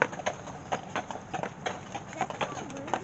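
Rhythmic hoof clip-clops of a horse pulling a carriage on a holiday lights ride, steady and moderately close, with talk in the background.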